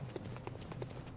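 Footsteps in the Bloodborne video game: a steady run of rhythmic thuds, about eight in just over a second, moderately loud over a constant low background drone, with no talk over them.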